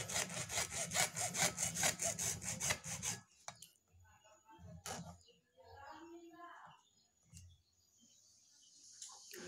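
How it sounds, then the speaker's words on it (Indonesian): A hand saw cuts through wood in about a dozen quick, rhythmic back-and-forth strokes, close and loud, then stops, leaving faint scrapes, a few knocks and birds chirping in the background. "Dan ini juga kita gergaji."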